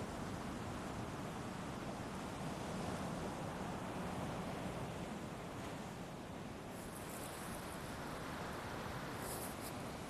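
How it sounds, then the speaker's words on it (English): Ocean waves wash continuously in a soft, even roar of surf, fairly faint and unbroken, with no voices over it. "the ocean just sounds so good"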